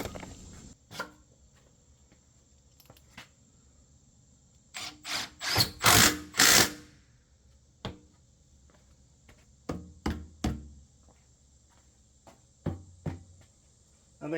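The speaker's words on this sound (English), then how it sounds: "Now we can drill for our tap cons." Bursts of power drilling into concrete for concrete screws, a few short runs and one longer cluster in the middle, separated by quiet pauses and light knocks.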